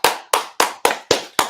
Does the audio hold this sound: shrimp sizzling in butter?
no